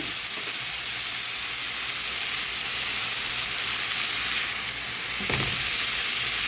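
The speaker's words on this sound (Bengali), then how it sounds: "বরবটিটা একটু মশলার সাথে ভেজে নেব" Yardlong beans fry with spices in a pan, giving a steady, dense sizzle that holds level throughout, with a brief stirring scrape near the end and no voices.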